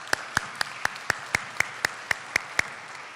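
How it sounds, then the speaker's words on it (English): Sparse, evenly spaced claps ring out in a lecture hall at a distinguished lecture, about a dozen sharp single claps in a slow, regular rhythm over a quiet room. "let's give him a round of applause"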